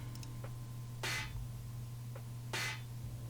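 A hyperpop snare sample in a beat strikes twice, each hit a bright, noisy burst with short decay, preceded by faint small clicks over a constant low hum, no voices.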